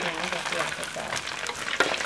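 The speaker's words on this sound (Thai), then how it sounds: "ทอดเนื้อ" Sun-dried pork frying in a pan for a northeastern Thai dish, a steady crackling sizzle with stirring scrapes throughout and a sharp spatter near the end, with no talk.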